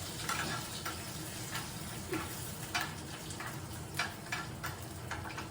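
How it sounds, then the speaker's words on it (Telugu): Dried lentil dumplings (kura vadiyalu) frying in hot oil, giving a continuous close crackle and sizzle with small popping bursts at irregular intervals, and no speech. "ఈ కూర ఉడియాలు ఇక్కడ వేసేసి వేయించుకోండి."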